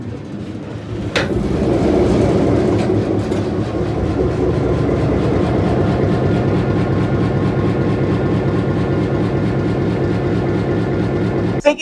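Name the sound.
GM diesel locomotive engine starting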